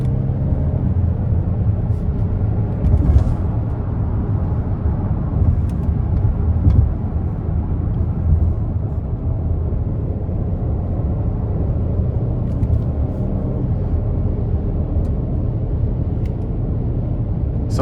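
2024 Hyundai Palisade Calligraphy AWD accelerating in sport mode with paddle-shifted gears, a steady low cabin rumble of engine and road noise heard from inside, fairly subdued throughout.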